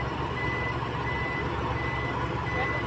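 A car reverses while a learner driver practises, its steady reversing beeper sounding repeatedly over a constant engine hum and road noise, with no talking.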